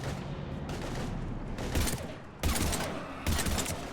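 Gunfire in Mass Effect 3 Legendary Edition comes in several sharp, loud bursts of rapid shots, each a dense crackling volley with short quieter gaps between, heard close with no talk over it.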